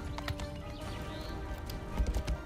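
Horse hooves clip-clop at a steady walking pace in a medieval castle-siege video game, moderately loud over a constant low hum of game ambience.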